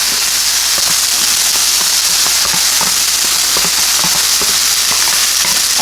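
Jalapeño and onion caramelizing in a hot pan make a loud, dense, continuous sizzle and crackle with scattered popping spatters, close up and with no talking over it.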